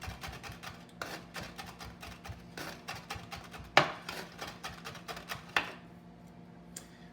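A chef's knife rapidly mincing garlic on a cutting board, quick irregular taps in close succession with a few sharper knocks, close and fairly quiet.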